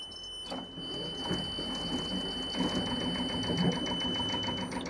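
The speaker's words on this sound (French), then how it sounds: "Je vais faire un essai de démarrage gaz à zéro." Sailboat inboard engine starting cold at zero throttle, a rapid mechanical clatter that builds into a steady rhythmic chugging, fairly close, with a high whine running underneath.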